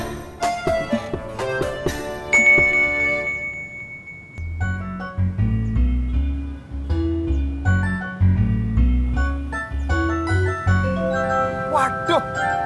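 A phone plays an SMS notification ringtone, a melodic electronic tune of bright chiming notes with a pulsing low bass line, loud and close, running continuously for several seconds.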